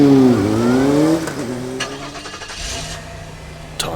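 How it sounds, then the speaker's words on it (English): A car engine cranks and catches with a rising whine, then settles into a steady idle that continues to the end. "Tommy turns on his car and follows."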